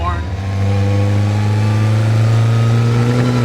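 From the passenger seat on a road test, a 1955 Austin Healey 100S tribute's engine holds a loud, steady, droning note that climbs slightly in pitch as it revs.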